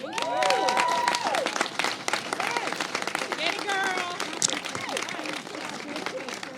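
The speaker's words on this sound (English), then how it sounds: "Please join me in another round of applause for Supervisor Stefani." Crowd applause at a Women's Equality Day event, steady broadband clapping throughout with voices and cheers mixed in, moderately loud and continuous.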